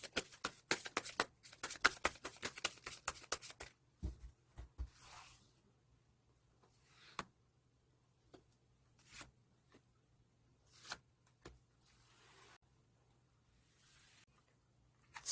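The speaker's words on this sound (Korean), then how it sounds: "그럼 추가로 카드 3장만 더 뽑아보도록 하겠습니다" Tarot cards being shuffled in a rapid flurry of crisp riffling at close range, then single cards drawn and laid down as sparse separate soft slaps and rustles amid quiet.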